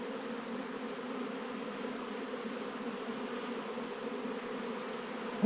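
A rescued honeybee colony, taken from a tree that fell in a storm, hums in a steady, dense drone of many bees, close and continuous throughout.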